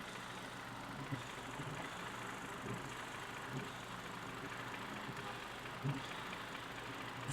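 An engine running on milk with worn crankshaft bearings idles steadily at a fairly low level, a continuous drone with faint periodic knocks and no voices.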